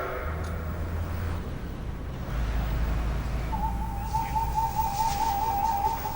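The warning klaxon on London's Tower Bridge sounds before road traffic is stopped, a steady pulsing tone that starts partway through and continues to the end over faint background noise.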